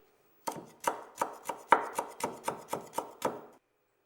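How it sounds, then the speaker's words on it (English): Kaffir lime leaves, folded tight, are finely sliced with a knife on a board: nine or ten crisp, evenly spaced chops close up, each with a brief scrape, then silence. "You will need to chop the kaffir lime leaves very finely as their flavour is very intense, so it's best to fold them together tightly and very carefully slice off tiny slivers."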